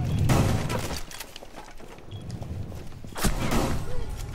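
Shotgun blasts ring out during a video game firefight, one heavy boom early and another a few seconds later, with scattered fainter shots and movement sounds in between.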